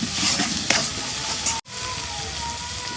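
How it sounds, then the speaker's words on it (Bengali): Spices stir-fried in a pan for a chicken and cauliflower curry give a steady close sizzle with scraping strokes, then a sudden brief cut to silence before the frying hiss resumes. "আমি কষে নেই মশলাগুলা।"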